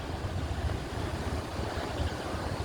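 Strong wind roaring steadily across a very long bridge above Baglung Kalika in Nepal, a continuous broadband rush with low buffeting gusts against the microphone, loud and unbroken with no talking.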